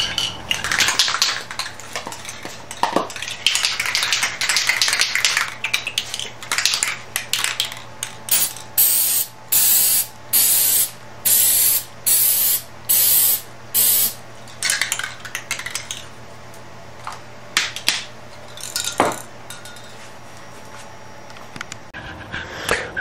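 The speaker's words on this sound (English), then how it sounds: "use some graphite spray on the barrel, and I sprayed on something like this." A can of graphite spray discharging onto a muzzleloader barrel in a workshop, a run of short, evenly spaced hissing bursts near the middle, with clinks and rattles of metal handling before and after.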